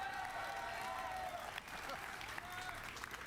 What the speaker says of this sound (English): I'm going to ask you for another round of applause